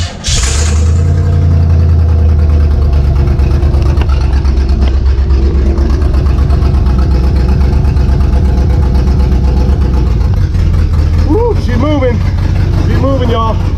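A 1960 Chevrolet Impala's engine idles steadily and loudly close by, with a brief start-up burst at the beginning, while someone talks over it.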